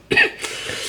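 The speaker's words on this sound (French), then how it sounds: "Moi aussi, je tousse encore un petit peu." A single short, sharp cough close to the microphone, followed by a breathy trailing exhale.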